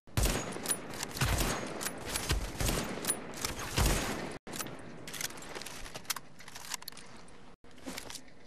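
Rapid gunfire in the video game The Division, Dark Zone solo play: bursts of sharp shots in quick succession, loud and close, then scattered single shots after a brief pause, with no talk.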